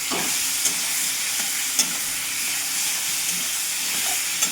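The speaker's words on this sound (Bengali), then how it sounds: "ভালো করে কষে নেবো।" Tomato sautéing in a pan with a mustard and poppy seed paste, giving a steady, close frying hiss with faint stirring clicks throughout.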